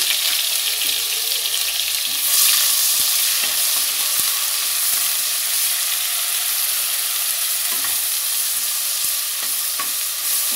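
Ground coriander, ginger, fennel and chili masala fry in a pan with a loud, continuous sizzle, broken by scraping stirs and occasional clicks.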